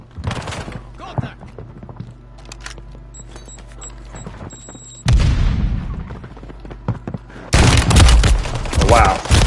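Sniper rifle fire in the shooter game Warzone, loud broadband blasts with booming tails, a sharp one around five seconds and a dense burst near the end, mixed with game noise and voice chat.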